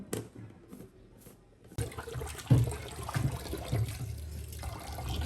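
Lentils are rinsed in water in a home kitchen, with quiet splashing and sloshing that grows louder partway through after a faint start, and brief stirring swishes near the end.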